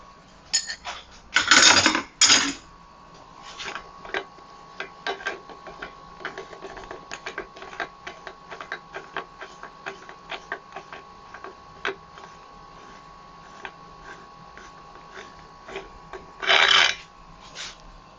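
Bearing cups pressed into a BMX 3-piece crank frame, a run of dense metallic ticks and clicks with a few louder grinding bursts at the start and near the end, no voices.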